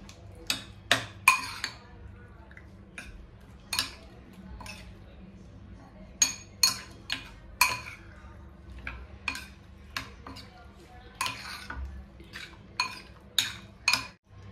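A spoon clinks and scrapes against a metal pan while a prawn masala mixture is stirred, giving sharp, irregular taps close up over a quiet background.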